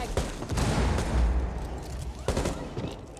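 Frag grenade detonation in a Rainbow Six match, heard as a heavy boom amid rapid gunfire bursts and low rumbling, with another sharp blast near the end of the short clip.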